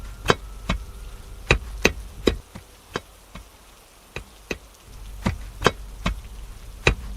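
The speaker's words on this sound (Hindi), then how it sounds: "एक अजीब आवाज, जैसे कोई मिट्टी खोद रहा हो।" A tool strikes into soil in a string of sharp, close thuds, about a dozen irregularly spaced hits over a quiet background hiss, with no voices.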